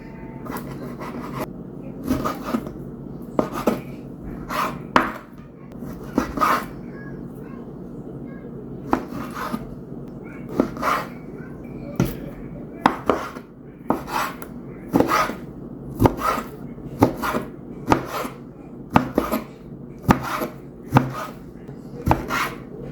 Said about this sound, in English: Just gonna give that a rough chop.